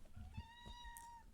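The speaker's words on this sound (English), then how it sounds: "That's my cat, excuse me." A house cat gives a single drawn-out meow lasting about a second, close and clear, over a low background murmur.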